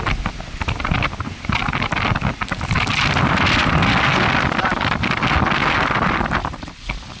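Strong winds of Super Typhoon Uwan after landfall, roaring and buffeting against the microphone in loud continuous gusts with a surging, rushing texture.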